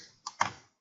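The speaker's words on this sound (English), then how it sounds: "I'm just going to type 6 all the way down" Keystrokes on a computer keyboard while entering a formula into a spreadsheet: two quick, close clicks, the second louder, with no talking.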